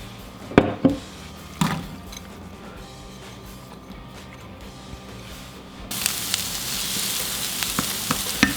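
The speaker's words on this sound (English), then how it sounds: "Now we're gonna saute up our onions until they're translucent" Onions sautéing in a pan for risotto: a few clattering knocks up front, then a quiet steady sizzle that swells into a louder, hissing fry.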